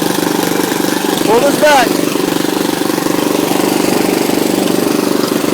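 A lawn mower engine runs steadily at close range, a constant loud mechanical drone throughout, with a person speaking briefly over it.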